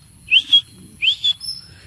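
A person whistles two short rising double-note calls, clear and close, with a pause between pairs, as if calling birds over.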